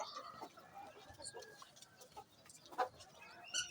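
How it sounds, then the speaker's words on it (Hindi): Chickens kept in a home coop cluck softly and intermittently, with a few sharper calls standing out near the end over a quiet background. "ये मैंने सील मुर्गियाँ भी रखी हुई हैं साथ घर में ही"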